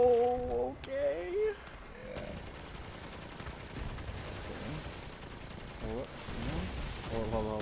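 Gunfire from vehicle-mounted guns in the combat game Crossout, fitted with an inverter, crackling as a dense ongoing burst behind talk and game music.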